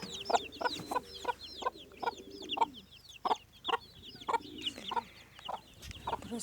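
Several chickens, including Indian and Aseel-type roosters, cluck in short repeated bursts, with a busy chorus of sharp bird calls overhead and an occasional rooster cry nearby in a garden.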